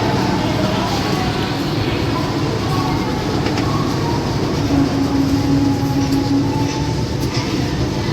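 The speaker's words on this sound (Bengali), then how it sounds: "আমাদের ট্রেন ছেড়ে দিল কটক জাংশন।" Howrah–Tirupati Humsafar Express pulling out of Cuttack Junction, a loud close rumble of rolling carriages with a rising steady drone and a faint brief wheel squeal, heard from on board with talk over it.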